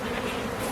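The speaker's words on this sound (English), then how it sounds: "I love the bees." Bees buzzing steadily and close at a newly set up backyard hive, a continuous hum that holds even in level for under a second with no talking.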